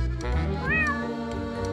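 A cat meows in a drawn-out, rising-then-falling cry over a steady background hum, close and clear, with no talk during the call.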